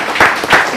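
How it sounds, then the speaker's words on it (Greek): A studio audience applauds the orchestra on a TV entertainment show: a short, dense burst of clapping that fills the whole moment, loud and close. "Ένα χειροκρότημα για την ορχήστρα και για όλους εδώ τους συντελεστές."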